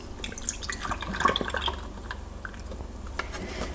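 Soya milk poured into a glass for a homemade latte, a soft, steady liquid trickle with small drips and splashes, close and fairly quiet throughout with no talk.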